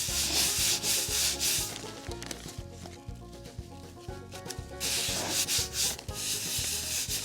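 Barbecue rub is worked by hand onto a turkey in a rhythmic series of close, rough rubbing strokes, with a few brief pauses and no voices.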